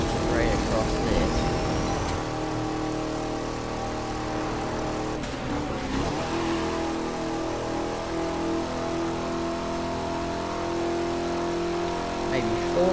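Car engine held near redline in the racing game The Crew 2, a steady sustained high-rev drone running throughout with a player talking over it.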